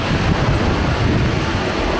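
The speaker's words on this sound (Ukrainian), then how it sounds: "Вітер реально жахливий" Strong winter wind roars steadily into the microphone in the Carpathian mountains amid snow, a constant loud rushing with low buffeting gusts.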